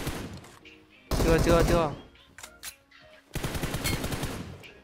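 Bursts of automatic gunfire in PUBG Mobile aimed at an enemy on a rooftop, two loud sustained volleys separated by a brief pause, with a player talking over the shooting.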